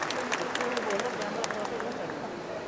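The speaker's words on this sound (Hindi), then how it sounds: "जोरदार तालियों के साथ आलोक अविरल साहब का इस्तकबाल कीजिए।" Audience clapping at a kavi sammelan and mushaira to welcome a poet on stage: dense, continuous crowd applause that holds steady and then thins out.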